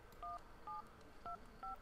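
Four short two-tone dialing beeps in a quick, even sequence as a phone number is keyed in the video game The Sims, fairly faint over a low background hum.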